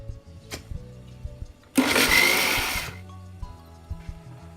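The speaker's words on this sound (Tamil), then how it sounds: "இதை மிக்சியில் நம்ம நல்லா அரைச்சி எடுத்துக்கலாம்." A kitchen mixer grinder whirs loudly for about a second as it grinds cooled sautéed masala for cauliflower peas curry, then cuts off, leaving quiet kitchen background before and after.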